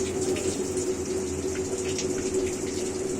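Water rushing steadily into a Bosch top-load washing machine as it fills, a continuous close gushing flow with a pump-like hum underneath, no voices.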